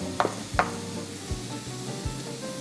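Mushrooms frying in a pan, a steady low sizzle with a few soft clicks and stirring knocks, fairly quiet and close, no talking.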